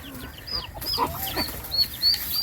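Chickens clucking on a small rural farm where chickens and turkeys are kept, several close, soft clucks and squawks repeating irregularly over a steady outdoor background with occasional higher chirps.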